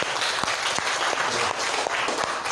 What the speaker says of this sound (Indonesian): beri aplaus untuk semuanya